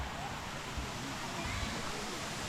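Erawan waterfall in Kanchanaburi, Thailand, pours with a steady, dense rush of water, a continuous even roar close by with no breaks.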